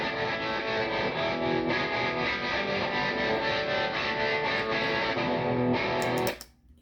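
An electric guitar played through a tremolo pedal and looped on a Donner Beltway looper pedal, a sustained, distorted loop with a steady pulsing throb for about six seconds before it cuts off abruptly.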